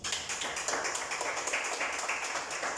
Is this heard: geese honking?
no